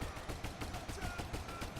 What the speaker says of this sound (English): these guys look like they're shooting at the enemy from far away